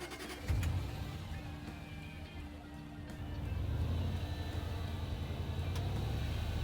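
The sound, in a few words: Range Rover Sport Supercharged engine starting and idling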